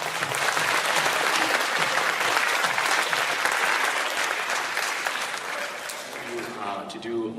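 Audience applause fills a youth program closing ceremony, a dense steady clapping that fades slightly before voices begin talking near the end.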